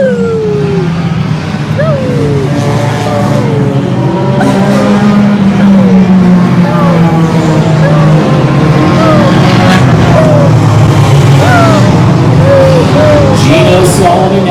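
Hornet race cars on the back straight at Evergreen Speedway, a loud sustained roar of several engines with revs rising and falling as they pass, an announcer faintly audible underneath.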